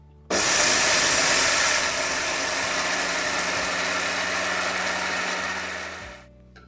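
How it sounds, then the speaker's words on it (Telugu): A mixer grinder whirs loudly and steadily for several seconds grinding cooled fenugreek and cumin seeds, starting abruptly and then winding down at the end, with no talking. "ఇలాగా మిక్సీలో పోసుకొని గ్రైండర్ చేసుకోవాలి"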